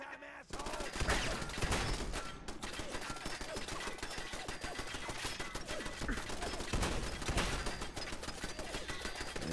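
Relentless automatic gunfire in the video game Fallout 4, dense and rapid bursts of shots with explosive cracks rattling loudly for several seconds without a break, and a player's voice talking over the shooting.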